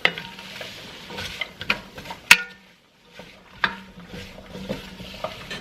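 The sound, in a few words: chopped vegetables sauteing in butter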